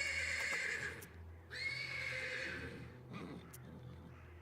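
A horse neighs repeatedly in a stable in the video game Black Book, with two drawn-out whinnies over low rumbling ambience and a few faint hoof-like knocks.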